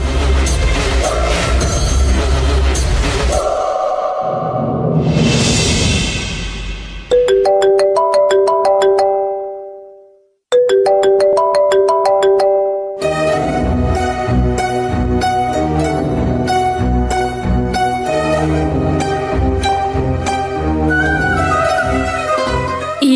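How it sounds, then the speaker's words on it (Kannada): A melodic mobile phone ringtone plays loud and steady during a Kannada TV serial scene. It cycles through repeating tone phrases, breaks off briefly after a fade, then resumes with a fuller musical pattern until the end. "ಈಗ ರಿಂಗ್ ಆಗ್ತಾ ಇರೋ ಫೋನ್ನ ಅರ್ಜೆಂಟಾಗಿ ತಗೊಳಕ್ಕೆ"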